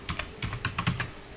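Rapid typing on a fast computer keyboard while writing a document title, a quick close burst of about nine crisp key clicks with no voices.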